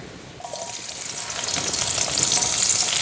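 Onions sautéing in hot oil in a pan, a broad hissing sizzle that starts abruptly and grows steadily louder over a few seconds, with soft stirring noises and no voices.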